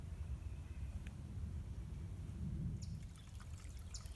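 Water trickles steadily in a spring-fed garden stream, a soft low continuous burble with faint higher splashes, quiet and close without voices.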